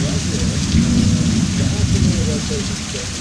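A thunderstorm during a tornado warning pours heavy rain close by, with a deep rolling rumble of thunder under the constant hiss of the downpour, heard through a slightly open door.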